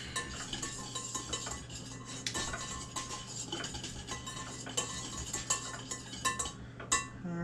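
Dry coleslaw dressing ingredients, sugar and pepper among them, stirred in a bowl with a utensil, giving a steady run of light clinks and scrapes, close and fairly quiet, with no talking.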